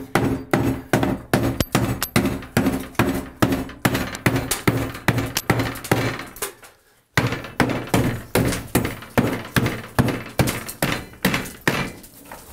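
Old tile wall around a bathtub being smashed out, with a steady run of sharp, loud thunks and cracking blows roughly twice a second, broken by a brief pause before the pounding resumes.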